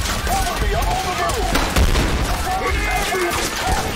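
Sustained gunfire from the Trepang2 video game finale, a dense, loud barrage of overlapping shots with booming impacts, continuous throughout under intermittent voices.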